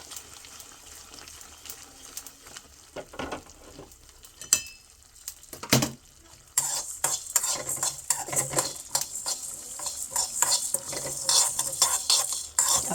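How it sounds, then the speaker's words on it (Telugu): Fish pieces frying in a pan for a fish curry, a constant hiss of sizzling oil with clinks and scrapes of a utensil turning the pieces, the frying growing louder and brighter partway through. "ఇప్పుడు ఈ ముక్కలు ఫ్రై అవుతున్నాయి కదా"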